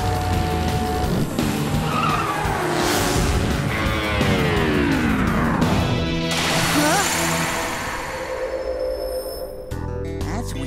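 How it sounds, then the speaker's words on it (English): Racing cars roar past with loud engine whine and squealing, skidding tires, the pitch sweeping as they pass close by, and voices talk over the commotion. "I heard someone racing."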